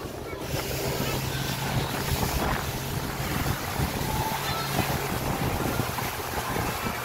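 Motorboat with a Yamaha 115 outboard engine running at sea with about ten people aboard, a steady loud engine drone mixed with wind buffeting and water rush throughout.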